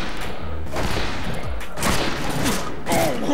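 Gunfire in the multiplayer shooter Fistful of Frags, a few loud blasts and thumps mixed into dense, noisy game sound over a few seconds, with no talk.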